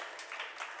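Short burst of audience applause during a Jain religious discourse in Shirpur, scattered hand claps blending into a brief soft patter under less than a second.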